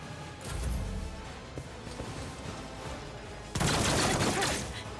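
Gunfire and battle noise in Warhammer 40K: Rogue Trader: a muffled thump, then a steady low rumble of combat, then a sudden loud burst of dense, crackling fire that holds for over a second before easing.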